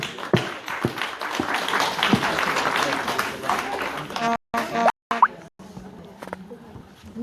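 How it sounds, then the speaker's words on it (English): Scattered audience applause breaks out for a speaker from Edinburgh at a talk event. The claps are uneven and loose, with someone talking over them, and the sound thins out and drops away briefly toward the end. "Can we have a little round of applause for Magdalene Burns?"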